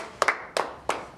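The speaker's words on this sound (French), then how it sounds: "Applaudissons en tout cas pour les mamans." A few sharp, separate hand claps at a church gathering honouring mothers, close and distinct, about four quick strikes in just over a second.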